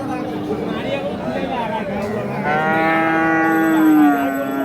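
At a cattle market, Australian and Friesian bull calves moo with long, low drawn-out calls, one rising clearly toward the end, over a steady background of crowd chatter.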